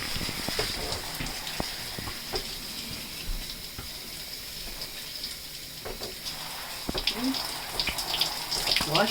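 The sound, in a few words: water running while rinsing in shower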